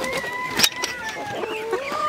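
Chickens in a coop clucking and calling close by, a run of short clucks and drawn-out squawky notes overlapping one another, with a brief knock of movement near the start.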